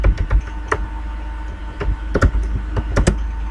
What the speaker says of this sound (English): Let me see if I can quickly type it out.